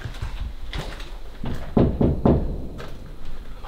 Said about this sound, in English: that is not the first time that door is banged